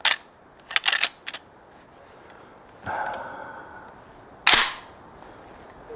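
A Beretta 1301 Tactical shotgun cycles its action with a few sharp metallic clacks. A quick cluster of clicks comes first, then a scraping slide and a loud final clack as the bolt locks up, all close and crisp in a quiet room.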